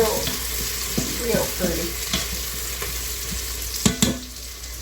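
Food browning in an Instant Pot sizzles and crackles up close while a utensil stirs and knocks against the pot, with a couple of sharper clanks near the end and a brief spoken remark.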